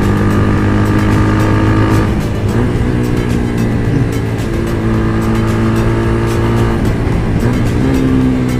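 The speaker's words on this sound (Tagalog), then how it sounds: "Engine braking test natin." A Motorstar Z200s motorcycle engine braking, a loud, close engine note whose pitch falls and shifts across several deceleration phases, with steady drone and slight roughness throughout.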